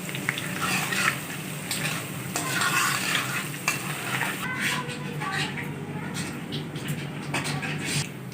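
Whole small red chillies, five of them, frying lightly in hot oil for a restaurant-style fried mash dal, giving a steady close sizzle with stirring and pan scrapes throughout, a voice speaking over it.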